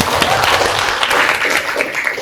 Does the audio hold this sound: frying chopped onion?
no